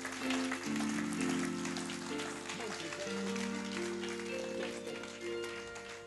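Church congregation applauding during a deliverance service, a soft, distant wash of steady clapping mixed with sustained musical tones and crowd voices.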